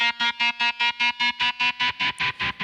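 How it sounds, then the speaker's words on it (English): An electric guitar string bend rings through distortion with a tremolo effect, chopping the sustained note into about a dozen even, rapid pulses that swell slightly in brightness as the bend rises. The instrument plays alone with no voices. "You hear some of the distortion come through for that bend."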